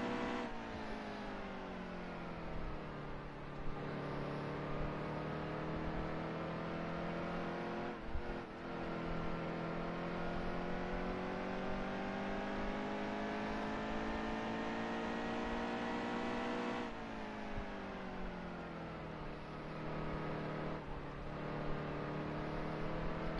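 NASCAR race cars on the final lap at New Hampshire in NASCAR Heat 2, a steady loud engine drone with pitch rising and falling through gear changes and corners, no voices.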